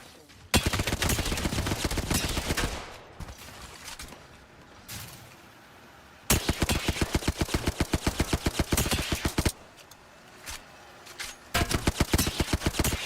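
Hemlock burst rifle hip-fired in Apex Legends, with loud, rapid bursts of close gunfire in three long volleys separated by quieter gaps and scattered single shots.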